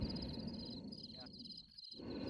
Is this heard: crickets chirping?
yes